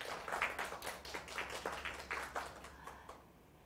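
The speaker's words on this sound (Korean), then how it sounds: "여러분 다시 한번 박수 부탁드리겠습니다" Light, scattered clapping from a small audience after a poetry concert performance at a library, soft and thinning out over a few seconds.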